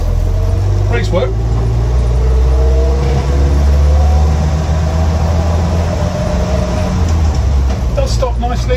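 A 1960 Land Rover Series 2 88in petrol soft top slows to a stop on a road, its steady low engine rumble and road noise continuous and loud throughout, heard from inside the cab.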